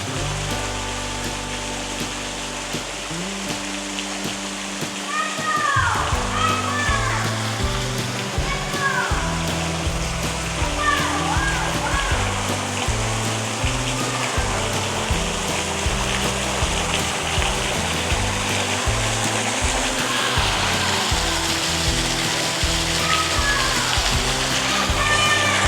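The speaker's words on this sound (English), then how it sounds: "Look at that, we got ourselves a waterfall." A waterfall beside a tunnel on a rail-trail pours in a steady, dense rush of falling water. It is loud and close all the way through, and voices talk faintly over it.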